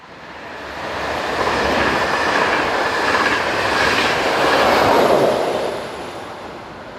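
A Class 1142 electric locomotive hauls a passenger train just west of a station on the St. Pölten line toward Vienna, a loud, steady rumble with rhythmic wheel clatter that swells and then eases as it passes close by.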